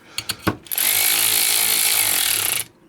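A Ryobi USB lithium 1/4-inch power ratchet, working against a nylon fastener on a 1/4-inch bolt, clicks a few times and then runs in a steady high whine for about two seconds before stopping.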